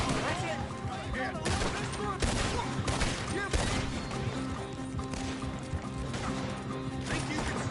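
Dense, loud bursts of gunfire from a Red Dead Redemption 2 shootout, with shots and impacts crashing almost continuously over a busy game mix while voices talk over the action.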